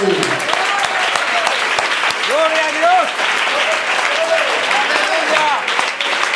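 A church congregation breaks into loud, sustained applause mixed with voices calling out praise, while a speaker talks over the clapping.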